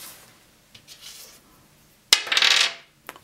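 Dice clatter across a Mensch ärgere Dich nicht board in one sharp burst of bright rattling, followed by a faint click, with quiet tapping before and no talk.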